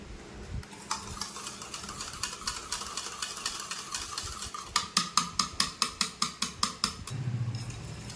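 Curd is whisked into buttermilk in a bowl, the whisk first scraping and swirling softly, then tapping the rim in a fast, regular run of about a dozen sharp clinks before a brief low rumble at the end.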